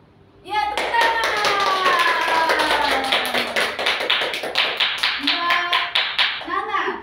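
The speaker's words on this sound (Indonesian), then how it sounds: "Ya, tepuk tangan." Children clap their hands in a steady run of sharp taps at a children's Sunday-school storytelling session, the claps joined by young voices that rise and fall over them throughout.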